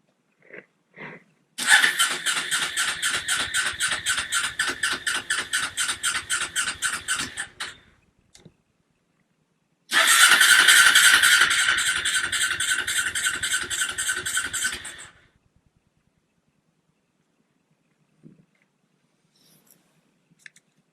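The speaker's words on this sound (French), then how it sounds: "Est-ce qu'un CB500 ça démarre?" Honda CB 500 motorcycle with clogged carburetors cranked by its starter in two long attempts, a fast whirring chug lasting several seconds each time without catching, then falling silent, with a few small clicks around the attempts.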